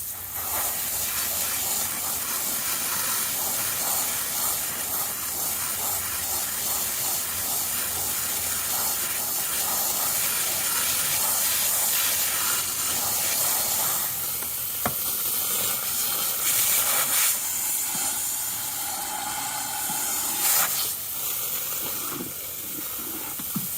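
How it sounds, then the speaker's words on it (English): Garden hose spraying water to rinse out a drained spa tub, a steady hissing spray that lasts throughout, changing texture as the stream hits different surfaces, with no talk. "I take that opportunity just to rinse it off really well, and making sure to squirt from the outside and also from the inside"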